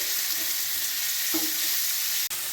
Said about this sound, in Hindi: हम यहाँ पर बारीक कटा हुआ प्याज डालेंगे।